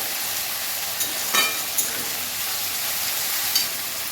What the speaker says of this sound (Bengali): এবার আমি আদা রসুন বাটা দিয়ে দেবো, দিয়ে এটা ভালো করে কষে নেব